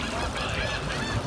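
Birds near water honk loudly and close by, goose-like calls overlapping in a continuous, raucous stream throughout the short stretch.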